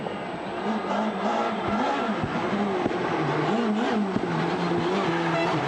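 Ford Fiesta S2000 rally car on a stage of the 2014 Jänner Rally, its engine note rising and falling through gear changes at close range, loud and continuous with no talk.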